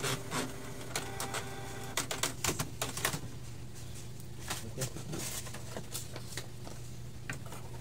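A Canon MP237 inkjet printer runs a test print, with quick bursts of mechanical clicking and rattling, a steady low motor whir underneath, and the clatter thinning out toward the end.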